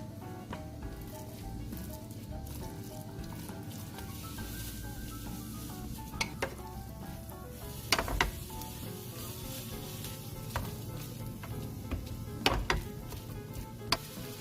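Ground meat sizzles in a hot pan for canelones filling, a steady dense frying hiss with scattered sharp clicks and scrapes as a spoon stirs and taps the pan. Nobody speaks.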